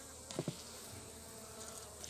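Western honey bees hum steadily around an opened hive frame during a honey harvest, a faint continuous buzzing drone with a few brief knocks near the start.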